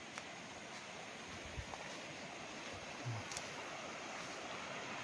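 A river running along a farm property boundary in Cavinti, Laguna, Philippines gives a steady, fairly soft wash of flowing water with a few faint knocks and clicks.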